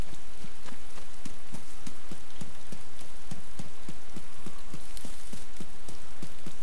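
Steady heavy rain in the survival video game DayZ, a dense continuous hiss of falling water with regular soft thuds that sound like footsteps, loud and unbroken throughout.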